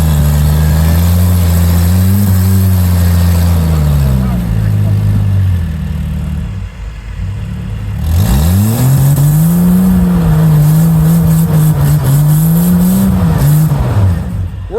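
An off-road rock crawler with front and rear differentials locked climbs rocks at an off-road park, its engine loud and close, revving and rising in pitch, easing off briefly, then revving hard again.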